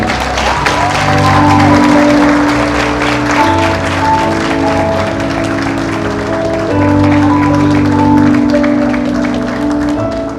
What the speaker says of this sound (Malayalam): എല്ലാവരും കൈയടിച്ച് പ്രോത്സാഹിപ്പിച്ചു